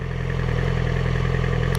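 A sports motorcycle engine idling with a steady low mechanical clatter while the bike creeps forward in the clutch friction zone without throttle input, close and continuous.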